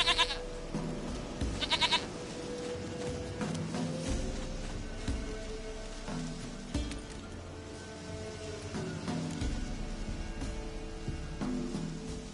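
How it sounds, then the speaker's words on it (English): A goat bleats in The Witcher game, a few nasal calls near the start over a busy layer of game ambience and music that keeps running throughout. "Goat of mine, dearest, sweetest goat."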